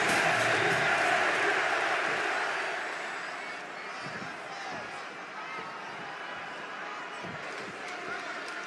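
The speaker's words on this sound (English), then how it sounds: "just listen to this crowd here in Chicago" Arena crowd at a live wrestling event in Chicago, featuring CM Punk against Eddie Guerrero, roars in a broad, sustained wash of cheering that eases slightly partway through, with a commentator talking over it.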